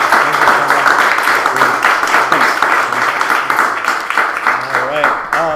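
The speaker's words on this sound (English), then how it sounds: "Let's have a round of applause." An audience at a small club talk breaks into steady applause, with clapping running throughout as people talk and cheer over it.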